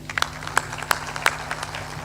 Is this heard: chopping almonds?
no